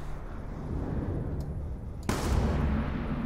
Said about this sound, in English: Shoot him in the leg.